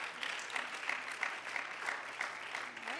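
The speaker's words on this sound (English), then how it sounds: "let's give them a round of applause" A church congregation claps for the fathers standing among them on Father's Day, a soft, even patter of many hands with regular swells, heard from some distance in a reverberant hall.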